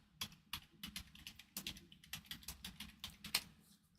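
Quiet typing on a computer keyboard, a steady run of light, close key clicks with no talking.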